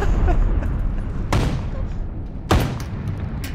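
A grenade explodes in a video game: two sharp, loud blasts about a second apart, each tailing off into a rumbling decay over continuous background noise.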